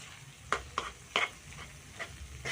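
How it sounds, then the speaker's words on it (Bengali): Spices with cumin powder and yogurt for an egg curry fry in a pan, a soft sizzle broken by a few sharp spatula scrapes and stirs, with no talking. "মশলা ভালো করে কষানো হয়ে গেছে"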